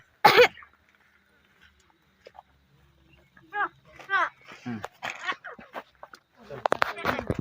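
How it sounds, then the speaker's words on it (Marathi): A single sharp cough bursts out at the start, followed by a quiet pause and then people talking. "खोकला झाला होता"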